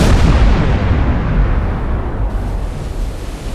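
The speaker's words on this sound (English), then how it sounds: "Torpedo impact." A torpedo strikes a ship in Silent Hunter IV, a loud deep rumbling explosion that starts at full force and slowly decays over several seconds with no speech.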